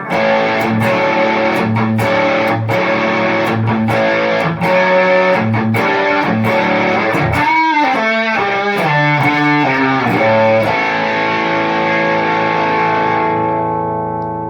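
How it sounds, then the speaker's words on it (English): Electric guitar through a Donner digital distortion pedal, heavily distorted, playing loud, sustained chords and riffs, with a flurry of bent notes midway before ringing out at the end. "Really, really good distortion pedal."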